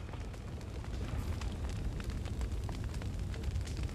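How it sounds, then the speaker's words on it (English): Wall of fire in Guild Wars 2 gives off a faint, steady roaring rumble of flames, low and continuous with scattered crackles, and no talk over it. "The wall of fire's back."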